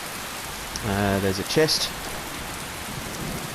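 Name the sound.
rain falling in Skyrim video game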